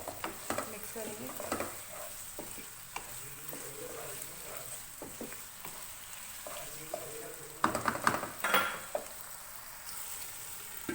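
A spoon stirs tomatoes into methi aloo masala frying in a pan, soft scraping strokes over a continuous low sizzle, with a louder burst of clattering stirs near the end.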